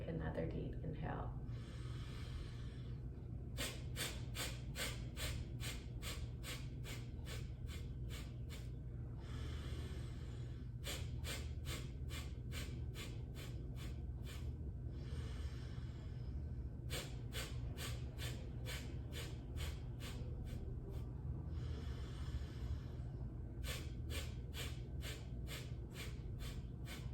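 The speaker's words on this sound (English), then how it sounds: "Doing this as many times, exhaling through the nose until we need to take another deep inhale." Rapid, forceful nasal exhalations during a breathing exercise come in long rhythmic bursts of quick, sharp puffs, broken by short pauses for inhaling, close and fairly quiet.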